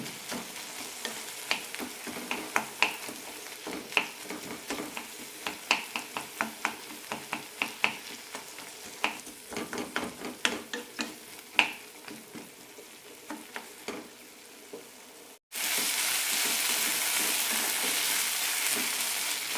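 Tomatoes cook for urad dal tomato chutney while a spoon mashes them against the pan, giving a steady run of sharp taps and scrapes over a low sizzle, followed by a loud burst of continuous frying hiss.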